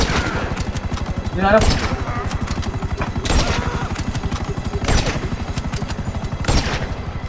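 Rapid, relentless machine-gun fire in GTA 5 Online, with a helicopter involved, rattles in a steady stream, punctuated by heavier bursts every second or so, with a player's voice talking over it.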